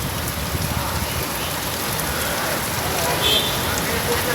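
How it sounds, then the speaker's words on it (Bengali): Heavy rain pours down on a city street in Dhaka, a loud, dense and steady hiss of drops that never lets up. "প্রচুর বৃষ্টি হচ্ছে আজকে"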